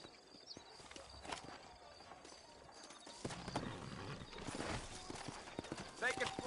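Horses walking in a frontier town in the video game Red Dead Redemption: quiet, steady clip-clopping hooves with occasional snorts, under faint background ambience.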